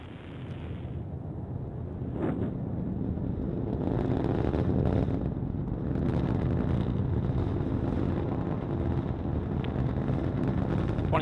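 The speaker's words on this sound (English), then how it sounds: "liftoff of the Delta IV rocket with GOES-O" A Delta IV rocket carrying the GOES-O weather satellite climbs from Cape Canaveral, heard as a continuous distant roaring rumble that swells slightly and holds steady throughout.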